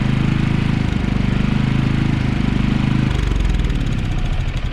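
Predator 3500 inverter generator engine running close by with a steady, throbbing chug that shifts pitch partway through, loud and continuous.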